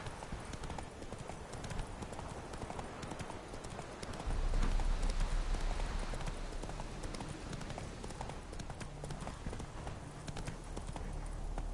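Horse hooves clip-clopping at a steady gallop in The Witcher 3, a continuous rhythmic pounding that swells slightly midway, with a low rumble underneath and no talk.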